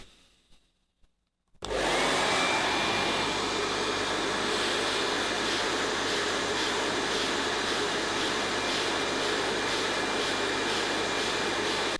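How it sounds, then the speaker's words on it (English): After a couple of faint clicks, a hair dryer with a nozzle switches on and blows across a beard with a loud, steady whooshing roar that continues without pause, close to the listener. "So I take the hairdryer, the nozzle, we're going to work our way across"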